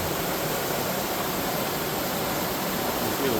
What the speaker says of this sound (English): You see the water coming down here